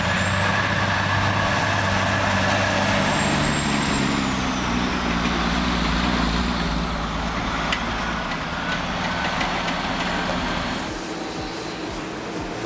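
A heavy truck drives on toward an industrial zone, its engine a steady loud rumble throughout, with a high whine falling away early on and the noise easing off near the end.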